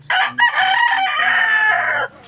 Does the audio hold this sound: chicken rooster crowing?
yes